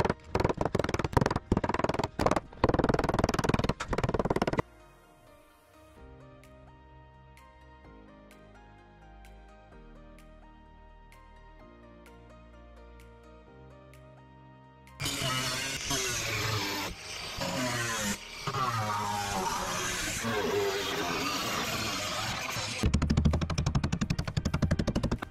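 Sheet metal being hammered and folded over a DIY form while converting an RV into a cargo trailer: rapid, loud, close metallic bangs in bursts at the start and end, with a quieter stretch between.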